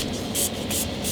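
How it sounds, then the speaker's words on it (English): Short hissing bursts of alcohol sprayed from a spray bottle into a soap mold, two or three quick close pumps over a steady background hiss. "So let me take my soap mold. I am going to go ahead and spray it with some alcohol"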